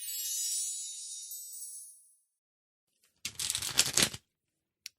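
A brand-new deck of playing cards is riffle-shuffled in one quick, crisp burst of flapping card edges lasting about a second. A soft hiss fades out before it, and a single tap follows.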